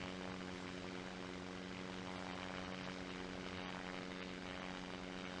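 Steady, droning propeller airplane engine hum in the game SimplePlanes VR, with a strong low tone, continuous and even throughout, no voices; right engine shut down, left at full power.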